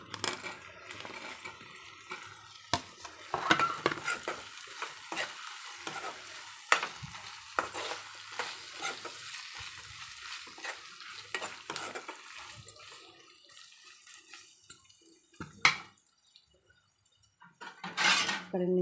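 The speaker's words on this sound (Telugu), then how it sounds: "ఇప్పుడు కట్ చేసుకున్న ఆలు అయితే వేసుకుందాం." Cut potatoes for an aloo curry frying in a pan, with steady sizzling and repeated scrapes and clinks of a spoon stirring against the metal, close up and with no talking.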